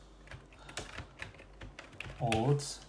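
Scattered, light clicks of a computer keyboard tapping out a Python string, quick uneven keystrokes, faint and close, with someone speaking briefly near the end.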